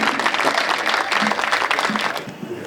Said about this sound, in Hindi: एक बार सारे लोग दोनों हाथ उठा के तालियां बजा के आमंत्रित करें हमारे भाई डॉक्टर सुनील जोगी।